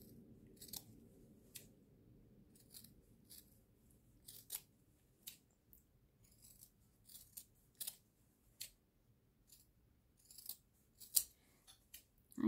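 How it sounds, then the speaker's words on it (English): Sharp scissors snip the corners of a sewn fabric coaster, a series of crisp, separate clips spaced a second or so apart, close and quiet against a near-silent room. "get a nice sharp pair of scissors, and we're going to clip the corners"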